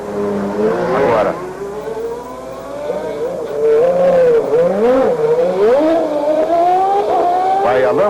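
Alain Prost's Formula 1 car pulls onto the track during qualifying at the 1993 French Grand Prix, its engine rising and falling in pitch as it revs loudly. A commentator talks over it throughout.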